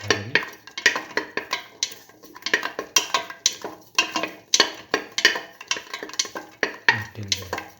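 Shallots sautéing with salt in a pan on the stove, with a steady series of close scraping and stirring strokes against the pan and a light sizzle underneath.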